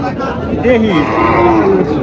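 A large red cow moos once with a rising and falling call amid the steady hubbub of a busy cattle market, with people talking around it.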